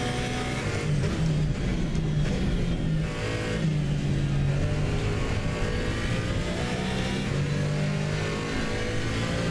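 A KTM X-Bow race car in Assetto Corsa Competizione, its engine droning and revving steadily through gear changes, loud and continuous without a break.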